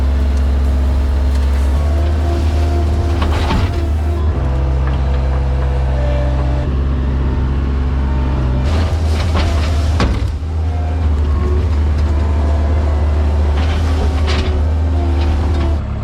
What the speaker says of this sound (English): we're about to jump in the skid steer here, fire this thing up